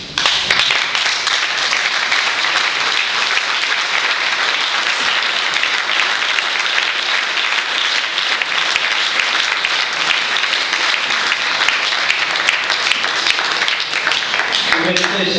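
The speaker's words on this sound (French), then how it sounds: "Vous méritez ces applaudissements" An audience at a human rights prize ceremony applauds loudly and steadily, a thick, sustained wash of clapping that carries on without a break.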